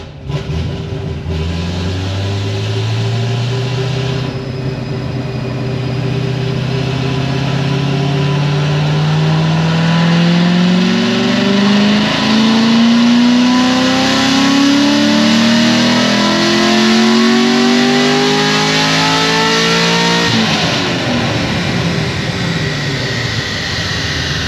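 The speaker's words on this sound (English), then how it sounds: "I'm just doing a cold pull and see what it does with the stock injectors" Stage 4 RPM-built Camaro ZL1 on a dyno during a cold pull on stock injectors, its engine climbing steadily in pitch from idle to a loud, sustained high-rpm roar before dropping off sharply near the end.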